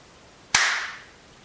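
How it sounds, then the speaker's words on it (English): A single sharp hand clap, alone and close, with a brief bright ring fading out over about half a second in an otherwise quiet room. "Shannon just clapped. Once."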